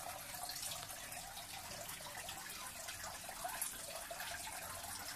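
Fine water spray falls continuously onto hanging Spanish moss (Tillandsia usneoides), a steady, even hiss like light rain with no voices.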